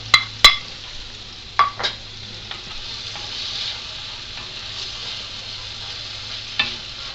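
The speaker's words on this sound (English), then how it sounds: "Now I'm going to add the poblano peppers and the onions. I'm going to let them saute the rest of the way." Poblano peppers, onions and tomatoes sauté in a pan with a steady quiet sizzle, broken by a few sharp clinks of a utensil stirring against the pan.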